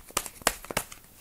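Tarot card laid over another card gives a few quick dry papery rustles and flicks, three or four short crisp bursts close by, with no talking.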